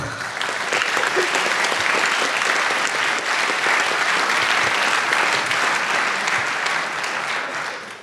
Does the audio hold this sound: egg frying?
no